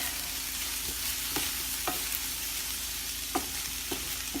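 Cauliflower rice with peppers cooking in a pan, a soft steady sizzle with occasional light scrapes of stirring, close and quiet, no talking.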